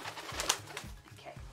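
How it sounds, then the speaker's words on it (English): Pet birds cooing indoors, a string of soft, low pigeon-like coos repeating in a steady rhythm, with a faint brighter chirp or rustle in between, fairly close and quiet. "I don't know what it is with birds and the camera, but Archie's in love with the camera"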